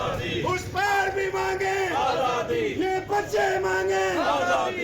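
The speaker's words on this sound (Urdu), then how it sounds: "مظاہرین نے بھارتی حکومت اور بھارتی وزیر اعظم نریندر مودی کے خلاف شدید نعرے بازی کی" A crowd of protesters at a rally against the Indian government and Prime Minister Narendra Modi chants slogans loudly and continuously, many voices merging into a sustained, rhythmic roar with rising and falling shouted phrases.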